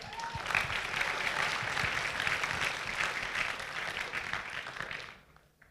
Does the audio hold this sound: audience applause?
yes